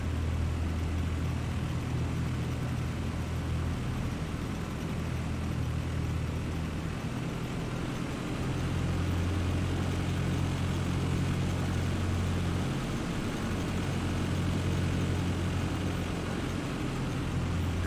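A Cessna 172 engine drones steadily on final approach in a flight simulator, a continuous low propeller hum holding nearly constant throughout with no voices.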